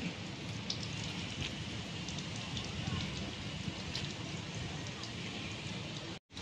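Steady, dense first rain of the season pouring down and pattering on rooftops, a continuous hiss with scattered drops, cutting out briefly near the end.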